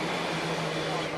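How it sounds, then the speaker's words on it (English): Fans in a Silverstone pit lane blow cold air into race car radiators, making a steady, loud broadband roar that runs unbroken throughout. "the racket you can hear in the background is teams blowing cold air into the radiators of the cars"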